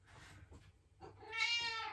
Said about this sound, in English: he's a big ragdoll cat